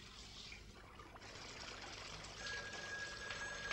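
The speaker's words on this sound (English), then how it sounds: "Move back, you're splashing." Water running and splashing steadily, a soft continuous trickle and pour that swells slightly louder midway, close by with no talk.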